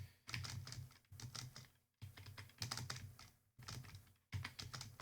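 Computer keyboard keys pressed while playing the Dungeon game on TempleOS, with bursts of rapid clicky taps separated by brief pauses, close and fairly loud, no speech.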